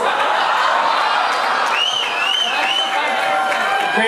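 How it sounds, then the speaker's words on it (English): Applause fills a kiki ballroom event, dense continuous clapping with scattered laughter and cheering voices mixed in. "Give them a round of applause."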